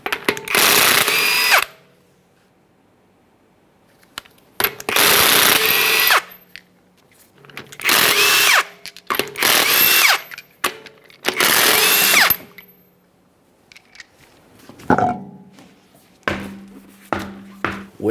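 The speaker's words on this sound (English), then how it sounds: "we're going to remove the wheel by removing all 5 of our 22mm lug nuts" Impact gun spinning 22mm lug nuts off an Acura MDX wheel, five loud close bursts of a second or two each separated by quiet pauses, with a few clinks of loose parts toward the end.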